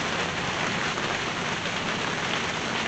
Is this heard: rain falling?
yes